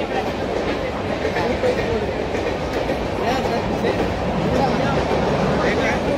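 A train rumbles and rattles steadily close by at a railway station on the way to Kolhapur, a low continuous clatter filling the whole stretch.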